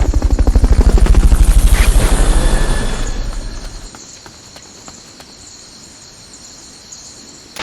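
A Fulton recovery helicopter from Metal Gear Solid: Peace Walker thuds loudly with fast, steady rotor beats over a bright whine, then fades into a quiet hiss with faint ticks.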